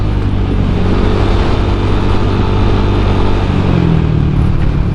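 A Yamaha Aerox 155 VVA scooter engine revs steadily under load while being ridden through corners, a loud, close, continuous drone with wind noise and no talking.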